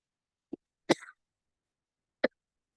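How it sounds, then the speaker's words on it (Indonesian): A person coughs a few times in an otherwise silent room, short close bursts with the middle one slightly longer and rougher, followed by a pause and a final single cough. "Lagi batuk."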